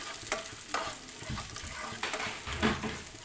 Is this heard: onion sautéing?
yes